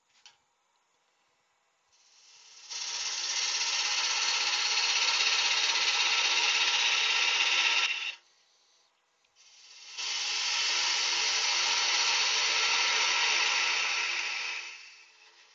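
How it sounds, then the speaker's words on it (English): Wood on a lathe being cut with a parting tool to turn a tenon, two long steady hissing scrapes of about five seconds each with a short pause between, close and loud, no voices. "I'm going to get my being and parting tool here. I'm going to turn a tenon on this side"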